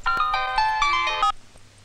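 A mobile phone plays a bright melodic ringtone, a quick series of loud electronic tones for over a second, then stops and leaves a quiet room.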